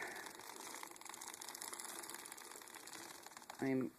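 A hand-cranked circular sock knitting machine with a 54-slot cylinder runs smoothly, giving a soft, steady mechanical clatter of rapid rhythmic ticks, then a short louder burst at the end.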